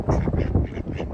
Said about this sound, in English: Look at the duckling.